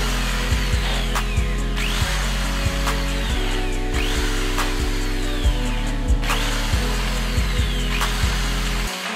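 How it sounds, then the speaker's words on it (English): A power-driven grinding stone works the edge of denim jeans up close, distressing and fraying the fabric in a motor hum with repeated rhythmic scraping passes and sharp ticks roughly every second. "I'm gonna be using a grinding stone to distress and fray the jeans"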